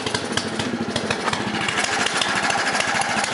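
A Craftsman snowblower engine runs after a cold start, a loud, close, rapid chugging putter with a steady rhythmic pulse throughout.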